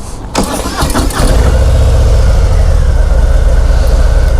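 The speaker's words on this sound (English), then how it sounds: "So starting up, the bike is still very smooth, very minimal shake in the mirrors here." A 2019 Harley-Davidson FXDR 114 motorcycle engine cranks with a few stuttering turns, then catches and settles into a loud, steady, deep idle rumble close by.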